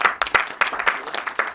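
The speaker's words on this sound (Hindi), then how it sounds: "तो एक बार जोरदार तालियां पूरी टीम को" Audience applause for a music team at a Bollywood celebrity event, with a short burst of clapping hands at close range that rises and falls in uneven claps.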